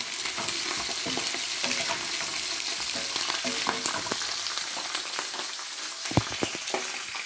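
Onions and liver sizzle in hot oil in a pan while Nigerian fried rice is being cooked, a dense, steady crackle broken by a few sharp stirring clatters near the end.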